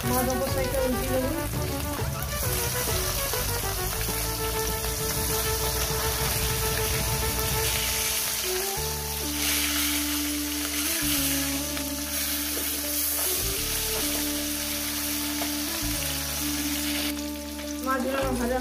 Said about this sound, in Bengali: মাছ অবস্থাটা উল্টে দেবো